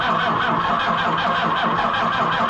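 A car engine cranks steadily while being jump-started with a NAPA Carlyle CJS24V850A jump pack, a loud, continuous, close churning drone that never catches.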